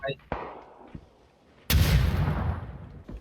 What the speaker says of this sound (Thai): แล้วปาระเบิดใส่ทางด้านของแอนดิวไป